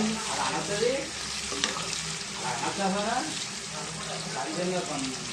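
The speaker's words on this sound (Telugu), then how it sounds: "ఉల్లిపాయలు బాగా ఫ్రై అవ్వాలి ఫ్రెండ్స్" Onions frying in a pan with salt and turmeric, a steady loud sizzle with stirring scrapes running throughout, under a voice that talks over it.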